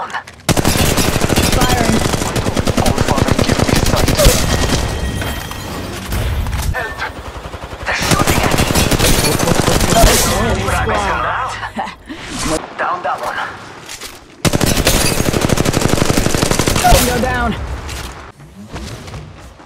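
Loud, dense bursts of machine-gun and rifle fire fill a squad shooter video game battle. Long rattling volleys come in three stretches separated by brief lulls, with voices calling out between and over the shots.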